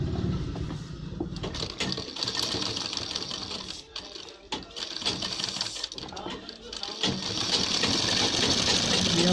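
A sewing machine stitches along a ladies' kurta collar in a continuous mechanical whir with brief pauses, while a person talks over it.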